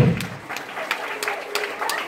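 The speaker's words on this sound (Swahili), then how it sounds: "Piga makofi." A church congregation at a Dar es Salaam prayer service claps hands in a steady rhythmic beat, roughly three claps per second, under a sustained voice speaking over them.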